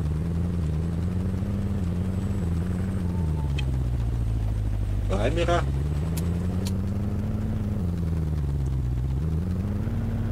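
Deep engine drone of a powerful car in the video game Anarchy, a steady low rumble that rises and dips in pitch as the throttle changes, with someone talking briefly over it.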